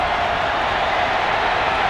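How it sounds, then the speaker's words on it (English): Florida State Seminoles fans fill the stadium with a loud, sustained roar during the Seminole chop chant, a thick continuous crowd wall with no distinct beats standing out. "Now you hear the crowd. The Seminole chop is going on."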